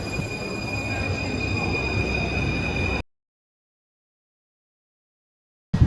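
A Paris metro train runs with a loud, continuous rumble and high metallic wheel squeal for about three seconds, then cuts abruptly to silence.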